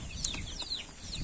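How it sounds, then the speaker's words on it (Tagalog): Newly hatched two-day-old chicks of mixed native, Black Australorp and Rhode Island Red breeds peep in a brief burst of high, thin chirps over a low background rumble, no talking. "So ito na yung ating mga bagong pisa na sisiyo."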